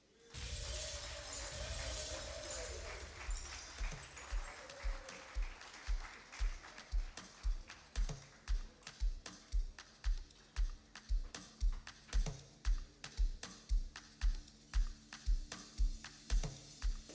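Guests at an awards dinner clapping for an honoree, a dense round of applause at first that thins into a slow, steady rhythmic clap with evenly spaced sharp hits, fairly faint and distant.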